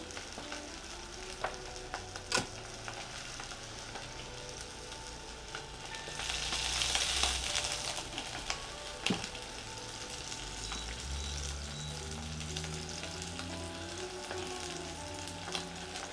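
Peppercorn-crusted steak sears in a frying pan with a continuous crackling sizzle, punctuated by a few clicks and knocks and swelling louder for a moment partway through.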